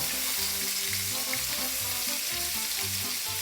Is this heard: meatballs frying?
yes